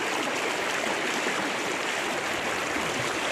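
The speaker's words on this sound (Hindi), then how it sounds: "मैं अभी नदी क्रॉस कर रहा हूँ" Continuous river water rushing and splashing while someone wades across a river on a hill trek, a dense steady wash with no voices.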